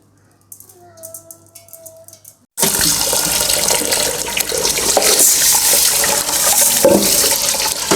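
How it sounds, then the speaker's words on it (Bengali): Rice being rinsed under a running kitchen tap: a few quiet seconds, then water suddenly gushes loudly and rushes on steadily, close up. "চালটা ধুয়ে নিয়ে আজকে ভাতটা বসাই দেবো"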